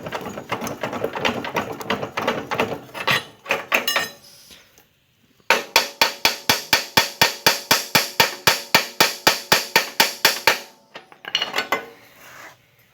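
Repeated sharp metallic strikes hammer on a steering part of a David Bradley tractor, first in an irregular cluster, then a steady run of about twenty evenly spaced blows, then a few more after a pause, close and loud.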